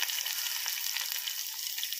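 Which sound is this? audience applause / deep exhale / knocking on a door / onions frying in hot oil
onions frying in hot oil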